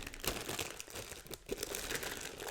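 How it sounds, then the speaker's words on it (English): Plastic bag wrapping a handmade Italian Toucan lamp crinkles and rustles continuously as it is handled up close, with brief crackling bursts throughout. "So it's just in a plastic bag."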